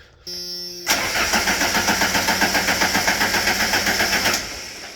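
A car engine cranks with a fast, rhythmic starter chug for several seconds, following a brief electrical hum, then stops.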